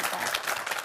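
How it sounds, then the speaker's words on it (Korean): Under a second of crowd applause at a Korean talk concert as actress Lee Su-ryeon's lecture begins, a dense wash of clapping heard alone. "박수 주시죠"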